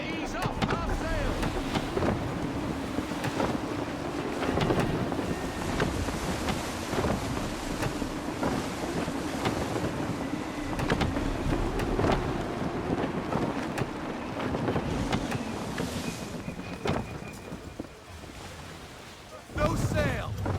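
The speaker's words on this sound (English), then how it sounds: "Gusty winds can be difficult to manage." Gusty wind roars around a sailing ship at sea in Assassin's Creed III, a constant loud blustery rush with water and hull noise, under occasional voices.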